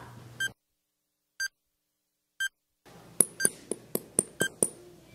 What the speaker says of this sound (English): Maybe it's that beeping rubber duck over there.